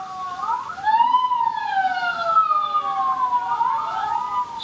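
State police sirens wail in rising and falling sweeps, several overlapping tones at moderate distance, with no voices.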